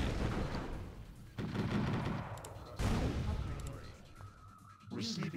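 Bursts of drive-by gunfire in the Command & Conquer video game, with loud rattling volleys in several waves and a player talking over the shooting.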